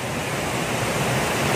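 Balnunto Falls in Barangay Kulon Sabak, Matanao, Davao del Sur: a steady, dense roar of falling water, loud and close, with no pauses and no voices over it.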